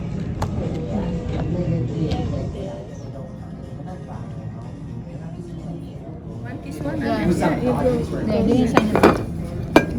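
Plates, bowls and cutlery clink and scrape around a dinner table at a Vietnamese restaurant in Canada, with frequent sharp metallic taps growing busier toward the end while several people talk nearby.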